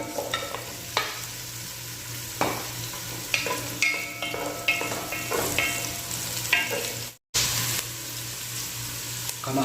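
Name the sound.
onion sizzling and being stirred in a frying pan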